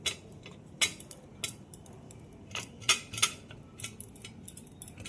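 Oil being brushed onto metal idli molds, a close series of light irregular taps and clicks against faint background noise, with no voices.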